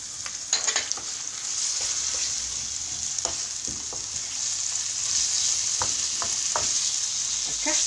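Chicken frying in a pan, a steady loud sizzle with occasional crackles and stirring clicks, no speech.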